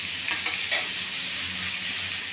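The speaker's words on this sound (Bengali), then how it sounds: "এগুলোকে একটু হালকা করে ভেজে নিই।" Whole spices lightly frying in a pan for butter chicken masala, a steady bright sizzle with soft stirring scrapes throughout, close and fairly loud, no voices.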